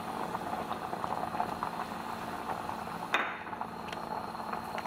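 Seaweed soup boiling hard over high heat, a steady bubbling hiss and rumble that holds evenly throughout, with one brief clink partway through.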